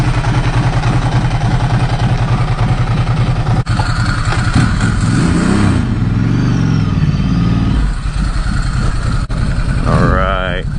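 A Yamaha FZ09 motorcycle on a short test ride runs loudly and steadily throughout, with engine surges and a rising rev toward the end, and some talk mixed in.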